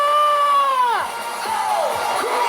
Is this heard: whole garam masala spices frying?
no